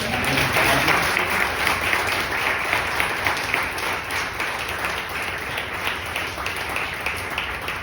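A lecture audience gives another round of applause, a dense continuous clapping that starts strong and tapers gently over several seconds.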